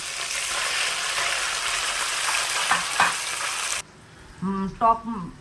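Fish pieces fry a few at a time in hot oil, producing a loud steady sizzle up close that cuts off abruptly near the end, followed by a couple of brief clatters.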